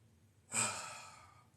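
A single audible exhale during a Qi Gong exercise, a soft close sigh-like breath that starts abruptly and trails off over about a second.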